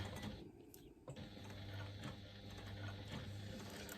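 A sewing machine fitted with a zipper foot stitches close to the edge of a braided wallet piece, a faint, steady mechanical hum and rapid patter continuing throughout.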